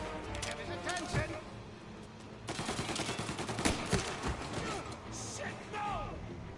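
Shotgun and gunfire in the Mafia video game, a dense cluttered mix of repeated blasts and impacts mixed in with shouting voices throughout.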